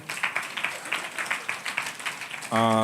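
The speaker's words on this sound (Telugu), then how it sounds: "తర్వాత చప్పట్లు కొట్టండి అందరూ ఒకసారి." An audience at a Telugu Bible quiz claps steadily in a patter of applause for over two seconds, then a loud tonal buzz-like sound abruptly takes over at the end.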